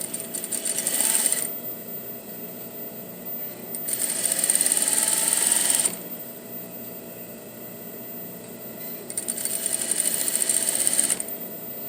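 A sewing machine sews a quarter-inch seam on a puff sleeve with back tacking, whirring in three steady bursts of a few seconds each over a constant faint hum, close by.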